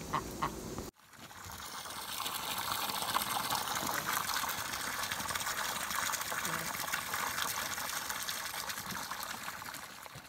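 Fresh water gushes and splashes steadily after a brief pause as it is poured, a continuous broadband rush with occasional duck quacks in the background.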